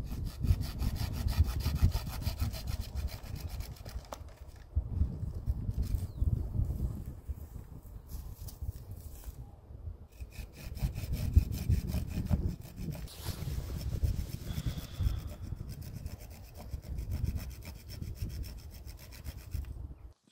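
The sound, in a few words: hand saw cutting a fruit tree branch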